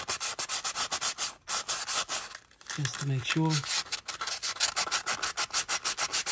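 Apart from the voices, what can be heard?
sanding a car engine surface with sandpaper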